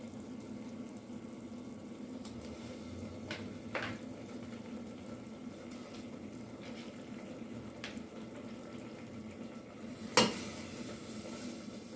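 Chunks of pork butt, after annatto oil or sazon, sit quietly in a pot with a faint bubbling simmer, a few soft stirring scrapes, and a sharp clink of a utensil near the end.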